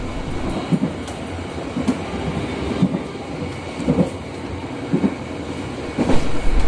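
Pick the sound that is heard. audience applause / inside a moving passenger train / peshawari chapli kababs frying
inside a moving passenger train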